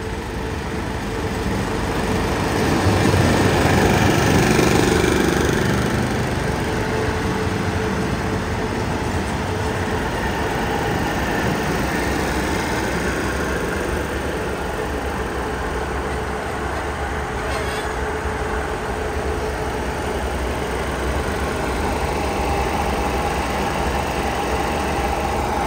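A three-car passenger train's engine idles at the station in Chumphon, Thailand, a low steady rumble that holds for the whole stretch, with a brief swell near the start and faint background noise.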